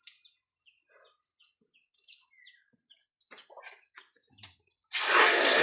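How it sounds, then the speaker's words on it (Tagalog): Tap water gushes loudly and abruptly near the end while squid adobo is being cooked, after a stretch of faint, scattered bird chirps. "Tubig."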